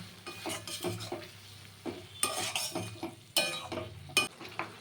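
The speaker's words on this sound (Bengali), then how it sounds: "এইবারে পুরোটা বেশ ভালোভাবে এবার কষাতে হবে" Vegetables sautéing with sugar in a pan, a spoon scraping and stirring in uneven bursts over a soft sizzle, close up with occasional metallic clinks and no voices.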